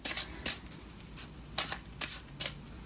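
Twin Flame oracle cards by Mystic Moon being shuffled in quick riffling bursts, several crisp papery flurries separated by brief pauses, close and clear with no talking.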